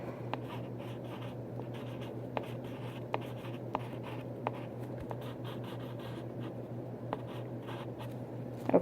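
A pencil quickly sketches a hoodie on paper, making continuous close scratchy strokes with occasional sharper taps as the point lifts and lands, over a low steady background hum.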